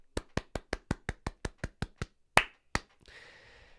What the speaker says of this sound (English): Let's give a little round of applause.